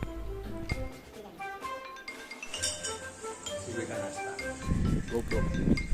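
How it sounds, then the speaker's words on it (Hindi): Utensils and dishes clink while being washed by hand in a home during heavy monsoon flooding. Bright metallic and glassy pings come in irregular clusters, close by, with muffled voices and rustling in the background. "बर्तन धो रहा होता है"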